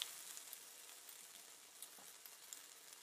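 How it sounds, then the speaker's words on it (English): A grilled cheese sandwich sizzles steadily in a frying pan after being flipped, a dense, even hiss dotted with small crackles and pops, heard alone without talk. "Turn it over and let it sizzle away."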